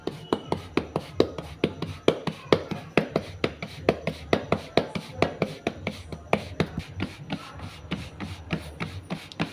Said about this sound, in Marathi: आता आपण भाकरी थापून घेऊ.